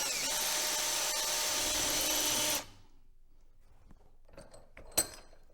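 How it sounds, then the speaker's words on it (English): A power drill whines steadily at high pitch for a few seconds, drilling a hole in a sailboat mast spreader bracket held in a vise, then stops, followed by quiet clicks and a sharp metallic tap. "we'll just drill a hole"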